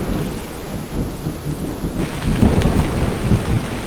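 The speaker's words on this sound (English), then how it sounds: "Now let me add thunderstorm, and then you can even hear that a bit more evidently." Game thunderstorm ambience from an Unreal Engine 5 demo: continuous heavy rain with rolling low thunder that swells louder in the second half, no voices over it.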